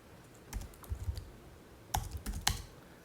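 A computer keyboard is typed on in short bursts of soft, quick key clicks, two clusters separated by a pause, fairly quiet and heard without talk.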